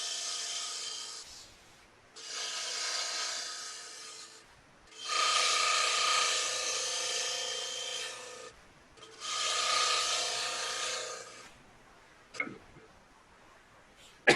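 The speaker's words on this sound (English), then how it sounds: "now I'm going to cut that fillet, again, being really careful that I don't bump the bead with my bowl gouge" A bowl gouge cuts a fillet into spinning wood on a lathe, giving four rough, scraping passes separated by short pauses, close and moderately loud, with a couple of sharp knocks at the end.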